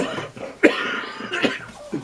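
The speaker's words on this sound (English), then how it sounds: "the cough is not contagious on YouTube" A person coughs a few times in quick, raspy bursts close to the microphone, with a short pause between them.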